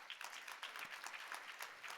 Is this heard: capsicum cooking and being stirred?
no